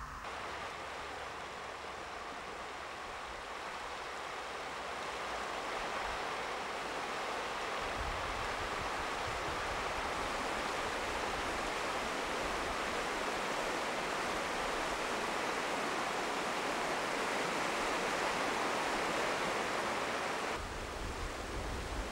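Studený potok, a stream running muddy with earthy water, gives a steady broadband rush of flowing water that holds constant and fairly loud throughout, with no voices.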